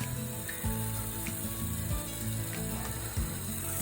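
An impact sprinkler spraying water over a lawn ratchets steadily, its repeated clicking pawl strikes in quick rhythmic bursts over a constant hiss of spray.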